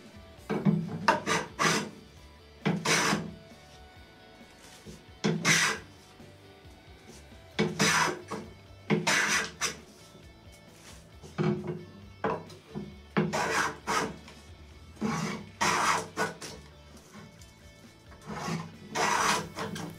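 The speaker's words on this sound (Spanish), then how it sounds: "Ahora estoy probando cómo trabaja la hoja del cepillo" A freshly sharpened hand plane blade shaves across wood in repeated rasping strokes, roughly a dozen close, loud passes with short pauses between them and no talking.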